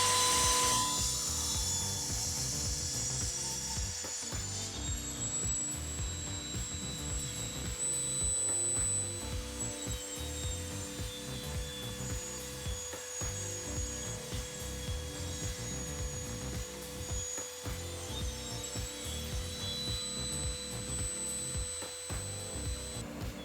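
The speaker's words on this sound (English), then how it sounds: "As you can see, I'm using my table saw to saw that out." A table saw cuts a wooden board to about 32.5 by 18 centimeters, its motor holding a steady whine while the blade rasps through the wood with uneven grinding and scraping, close and continuous, with no talking.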